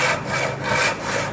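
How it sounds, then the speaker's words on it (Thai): A hand saw works through a board along a marked line, its close rasping strokes repeating evenly, roughly four in quick succession, with no voices. "ผ่ากลางเส้นแล้วค่อยๆเลื่อย ค่อยเลื่อยไปเรื่อย ๆ"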